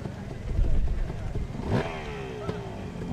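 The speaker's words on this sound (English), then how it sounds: "Hear the bike revving up." A motorcycle engine revs up in a rising whine at a hill climb race, with mid-range engine noise and some background voices over a steady roar.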